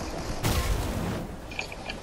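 Gunfire in the video game Fortnite: a loud burst of shots at about half a second, then sustained rattling fire for roughly a second before fading, with sharper pops near the end.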